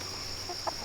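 A single brief, soft cluck comes from chickens pecking at an unripe watermelon treat, against a faint steady background hum outdoors.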